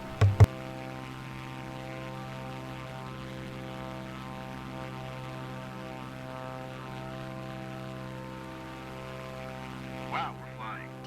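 A single-engine aircraft in Flight Simulator 2024 drones at full takeoff throttle, a steady buzzing tone with strong harmonics that holds for the whole stretch, after a couple of brief clicks at the start.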